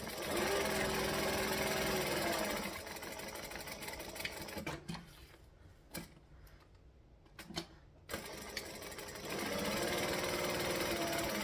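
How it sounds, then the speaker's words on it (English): A sewing machine stitching forward and back on vinyl runs in a loud steady whir, pauses with a few clicks and handling knocks, then starts up again. "Now I'm going to go here, stitch forward and back."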